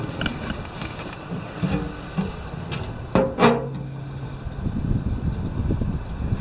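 Gas hisses on at the burners of an outdoor BBQ grill, with soft valve clicks and knob turns, a few sharp clacks in the middle and a steady low rush of gas throughout.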